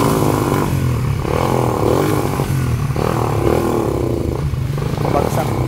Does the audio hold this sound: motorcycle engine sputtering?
yes